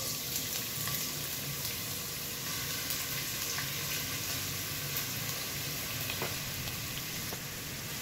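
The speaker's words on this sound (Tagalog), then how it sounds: "pag mainit ang kawali, maglagay tayo ng mantika. Unahin natin ng luya." Ginger pieces fry in hot cooking oil in a pan, producing a steady, fine, close sizzle with faint scattered pops, with no talk over it.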